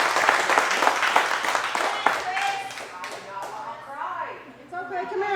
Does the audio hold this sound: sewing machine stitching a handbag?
no